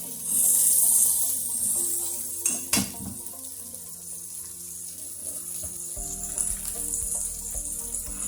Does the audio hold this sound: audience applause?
no